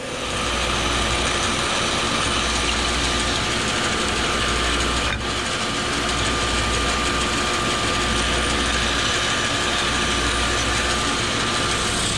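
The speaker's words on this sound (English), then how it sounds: "we'll go to the bandsaw and nip those off" A bandsaw cutting the end pieces of a wooden wine rack, with a loud continuous motor whir and blade buzz that holds steady throughout and has one short sharp click midway.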